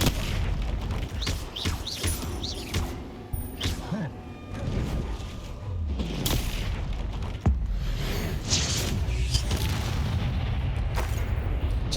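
Hogwarts Legacy spell combat fills the scene with booming impacts, crashes and magical blasts in quick succession, heavy thumps scattered throughout over a constant low backdrop of game noise.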